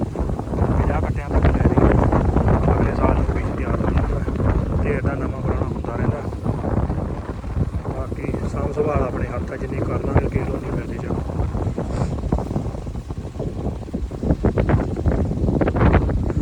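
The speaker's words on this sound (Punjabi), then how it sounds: "ਹਵਾ ਚੱਲ ਪਈ" Wind gusts across an open wheat field during urea spreading, a constant loud rumble that buffets the microphone, while people talk nearby.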